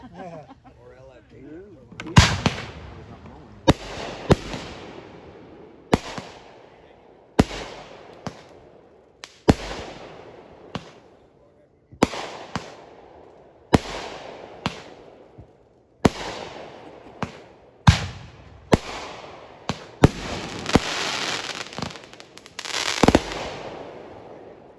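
Fireworks explode in a rapid series of sharp, loud bangs at a Fourth of July-season show in DeLong, Indiana, each burst followed by a crackling decay, roughly a dozen booms spaced irregularly with people talking between.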